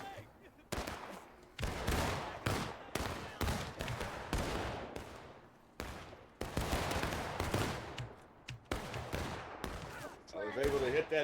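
Gunfire and cannon fire in a Civil War battle video game, dense volleys of sharp musket cracks and heavy booms in rapid irregular bursts, loud and continuous with short gaps.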